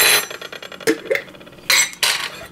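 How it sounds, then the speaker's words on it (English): A spoon is pulled from a kitchen cutlery holder: several quick metallic clinks and rattles of silverware knocking together, close and bright, no talking. "Let me just grab a spoon."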